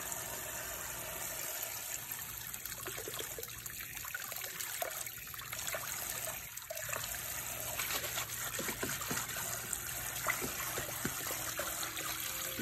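Hair extension swished around in a basin of lukewarm water, giving a steady close trickling and sloshing of water with soft splashy bursts throughout, no voices.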